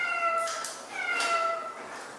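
A cat named Felix gives two drawn-out meows in quick succession, clear but fairly quiet, with no other sound around them.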